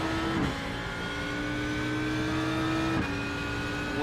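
A race car engine drones loud and steady on a track, with brief rev changes around two downshifts.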